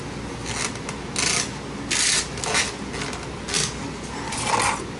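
A plastic drain pipe is pushed and scraped into a basement sump pump fitting, giving repeated close rubbing and grinding bursts in short strokes with brief pauses between them.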